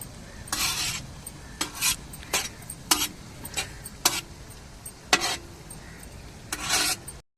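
Prawns being stirred and fried in a pan with a steady sizzle underneath, broken by repeated scraping stirs, about a dozen irregular strokes over several seconds, close and fairly loud, with no talking.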